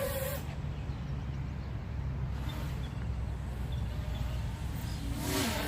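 LDARC 200GT FPV drone motors and props spinning up for takeoff, a steady broadband whir that holds at an even, fairly loud level with no talk.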